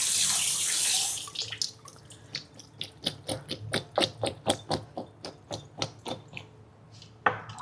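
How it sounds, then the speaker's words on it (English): Potatoes are washed under a running kitchen tap, starting with a steady rush of water and then moving to a quick series of splashy, knocking strikes as the potatoes are rubbed and turned in the stream, all fairly close. "you're gonna wash your potatoes"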